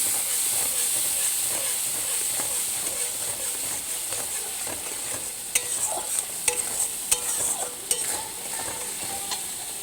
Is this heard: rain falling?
no